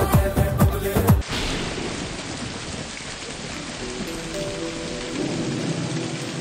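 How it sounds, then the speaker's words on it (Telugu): Heavy rain sound effect with thunder on a television comedy stage, a brief tonal music sting up front, then a steady hiss of downpour with low rumbling beneath. "బయట గట్టిగా వర్షం పడుతుంది"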